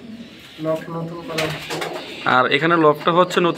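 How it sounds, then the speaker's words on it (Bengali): Domestic racing pigeons coo in a newly built home loft, their soft throaty calls rising in bursts while someone talks nearby over them. "ভাইয়ের কবুতরগুলো মূলত আমরা একটু জাস্ট দেখি"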